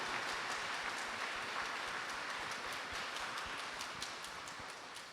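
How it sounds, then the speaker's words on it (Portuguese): A church congregation applauds, a dense, steady patter of many hands clapping that holds at an even, moderate level throughout, with no voices over it. "Uma salva de palmas para esse templo."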